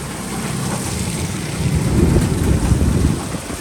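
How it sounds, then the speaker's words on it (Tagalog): Wind gusting outdoors during a rainy thunderstorm, a steady broadband rush that swells louder midway and stays strong, with no talking. "ang sarap ng simoy ng hangin"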